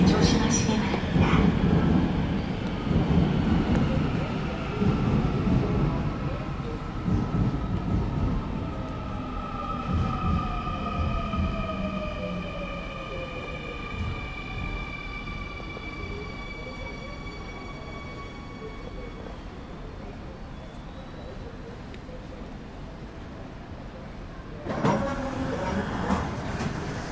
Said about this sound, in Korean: The Inner Circle train for City Hall is approaching.